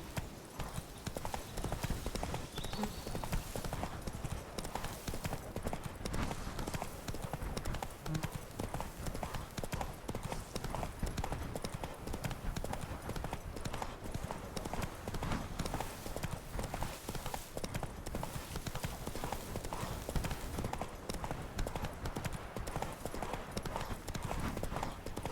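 Roach, a horse in The Witcher 3, gallops with a fast, steady clip-clop of hooves that stays loud and continuous throughout, with no pause in the rhythm.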